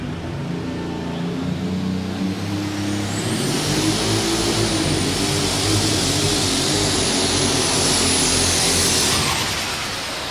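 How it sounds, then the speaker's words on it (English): A blue New Holland alcohol-fuelled super stock pulling tractor roars at full throttle at a tractor pull in Louisville, Kentucky. The engine is loud and sustained, with a high turbo whine that climbs, holds and then drops away. "Bringing this New Holland up here, the blue tractor."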